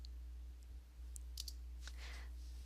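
A few quick computer mouse clicks in a home design program, faint and close, isolated taps against a low steady hum.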